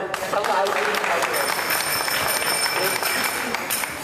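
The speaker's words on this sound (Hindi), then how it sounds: "इनके लिए ताली बजा" Audience applause in a gathering at the samadhi of Srila Haridas Thakur, a steady, dense clatter of clapping hands that stays loud and even throughout.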